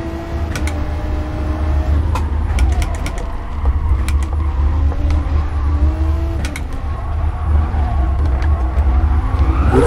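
Race car engine droning steadily in a Gran Turismo Sport circuit driving game, loud and continuous throughout with sharp tyre squeals and brief clicks scattered over it.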